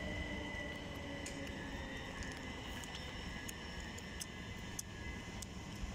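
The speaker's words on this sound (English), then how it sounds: "now arriving into Clapham Junction is a service 377153 at the front, southern service to" Southern class 377 electric train pulling into Clapham Junction station, a steady rumbling roar with faint squeals and clicks above it, constant and fairly distant throughout.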